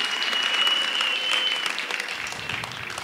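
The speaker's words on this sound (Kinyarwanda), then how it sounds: "Amashyi menshi ladies and gentlemen" An audience at a comedy show in Nairobi claps steadily, a dense, moderately loud patter of applause that thins slightly near the end, with no one speaking over it.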